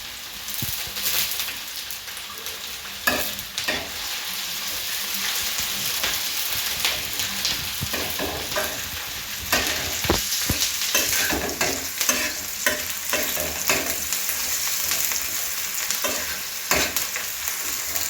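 Onion and curry leaves frying in a pan for a dry potato curry, a dense, steady crackling sizzle with repeated scraping stirs throughout, close and alone without talking.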